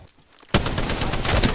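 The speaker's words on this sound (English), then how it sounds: "Danger, move. Getting shot at." Sudden burst of rapid automatic gunfire in Apex Legends, loud and close, starting abruptly after a quiet moment and continuing as a fast steady stream of shots.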